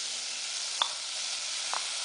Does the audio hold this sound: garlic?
yes